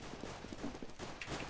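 Footsteps in the Counter-Strike video game during a competitive match, a quick run of soft, rhythmic thuds under a steady background of game noise.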